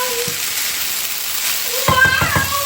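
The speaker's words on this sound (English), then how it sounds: "I need to leave this to fry for like 2 minutes" Nigerian fried rice frying in a pan gives a continuous hissing sizzle, with a voice briefly sounding near the end.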